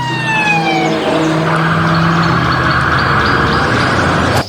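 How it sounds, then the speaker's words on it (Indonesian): A toy police car sounds its siren, a loud, steady electronic wail with a falling tone at first, then a continuous buzzing whine that runs unbroken to the end. "Wow, lihat teman-teman, ternyata mobil polisi."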